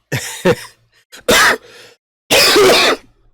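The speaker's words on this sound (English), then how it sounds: "I would record myself coughing like that because it's going to happen every few minutes." A sick person coughs in three separate bursts: a short double cough, then two louder, harsher fits with brief quiet between them. It is close and clear, with no talking.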